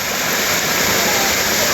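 Floodwater rushing through a residential yard in Trafalgar Park, St. Andrew, a loud, steady broadband roar of running water throughout with no pauses.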